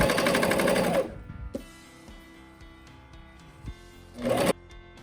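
A sewing machine stitches a raglan hoodie seam over a thick hump in two rapid, loud bursts of close mechanical rattling, with quiet handling noise between them and no talk.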